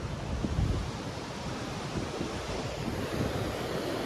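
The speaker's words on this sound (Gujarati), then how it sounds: "દરિયો કેમ પણ જોવો મોજા કેમ કેવડા કેવડા આવે છે" Sea waves break on the shore near an island with a continuous, rolling surf roar, close and fairly loud, mixed with gusty wind noise on the microphone.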